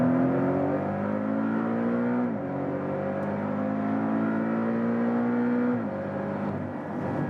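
A Porsche 718 Boxster GTS's four-cylinder engine pulls hard with its PDK automatic gearbox, its rising whine cut by two quick upshifts, loud and close with no talk.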